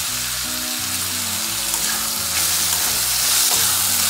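Onion fries in a pan with salt and turmeric for a pepper mutton dish, sizzling steadily and loudly throughout, with faint stirring scrapes and no talk.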